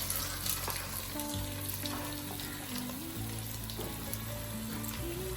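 Ginger and garlic sizzle steadily in hot oil in a pan for a star fruit pickle, a close, continuous frying hiss with light stirring and no talking.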